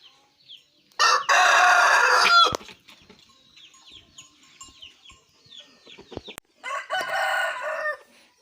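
A rooster crows twice nearby, a loud drawn-out call followed a few seconds later by a second one, with quieter clucks and rustling from fowl in between.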